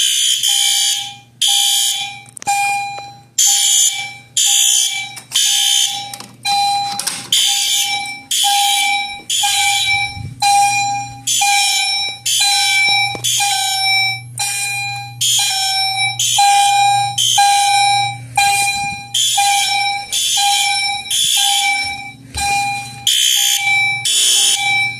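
A fire alarm system under test sounds a repeating electronic command chime, loud and steady, in regular pulsed bursts of a bright tone that keeps going without pause, with a low hum running underneath.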